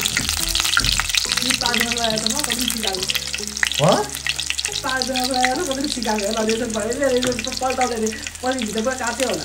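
KFC-style crunchy chicken frying in hot oil, a steady bright sizzle running throughout with a voice-like harmonic sound over it.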